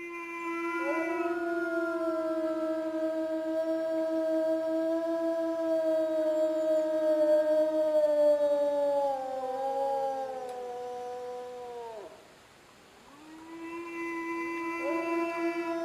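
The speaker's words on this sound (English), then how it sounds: "One of the most captivating aspects of our existence is the language of our howls." Wolves howl in long, sustained, mournful tones that slowly slide downward, fade out briefly and then rise again in a fresh howl, heard alone and clearly with no talking.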